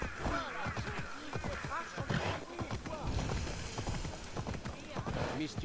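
Hoofbeats of a horse in a video game walking along a straight path, a quick regular clip-clop that repeats close by throughout, with someone talking over it.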